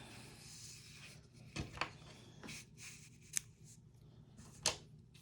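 Scissors snip off yarn ends after knitting, a few short crisp cuts spaced apart over a quiet background.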